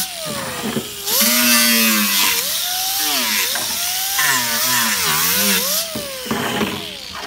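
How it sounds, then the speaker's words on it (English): A power sander with 36-grit paper works an F150 truck dashboard, its motor whining loudly and wavering in pitch as the pressure shifts, with harsh abrasive scraping rising and falling in bursts and no talk. "So I sanded the dash."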